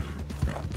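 Horse hooves in the video game Red Dead Redemption II, a quick muffled clip-clop of several hoofbeats at close range with no talk over it.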